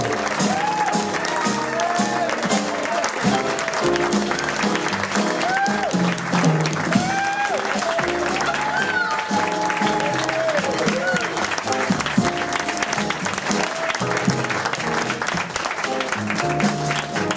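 Audience applause for a singer at a New York show, a steady wash of clapping and some cheering that carries on without a break alongside music and melodic sound.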